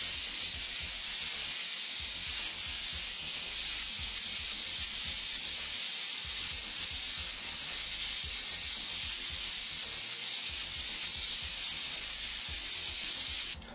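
A spray gun pushes paint through its tips in a wide fan, giving a loud, constant hiss with a faint rhythmic low thumping of the pump underneath, steady throughout before cutting off at the very end.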